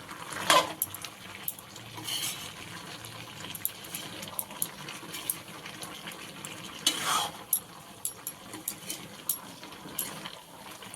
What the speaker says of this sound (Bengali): গরম মশলাটা একটু মিশিয়ে দেওয়া হচ্ছে